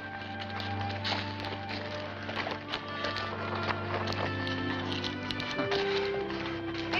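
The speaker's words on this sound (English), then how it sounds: "Here's your horse, Mrs. McDonald." Horse hooves clip-clop in a steady rhythm, moderately faint, over a low background hum.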